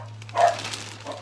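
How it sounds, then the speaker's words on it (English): Dogs bark indoors: one short, muffled bark rises over a constant low electrical hum, followed by a fainter second yelp. "Don't mind my dogs barking."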